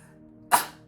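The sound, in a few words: sneeze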